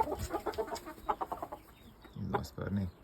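A trio of Ko-Shamo chickens from Germany cluck softly while being packed for shipping, with short bursts of clucks and rustling close by and a few low, throaty calls near the end.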